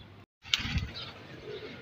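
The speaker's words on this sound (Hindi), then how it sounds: "कबूतर नीचे आ गया जी" A pigeon coos softly in a low, throaty burst close by after a short silence, with faint background noise and a light click around it.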